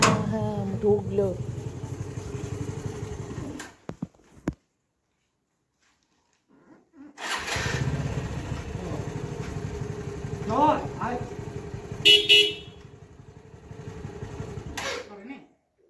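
A motorcycle pulls up at a family home as a relative arrives on his bike. Its engine rumble rises steadily after a stretch of near silence and continues close by, with people talking over it.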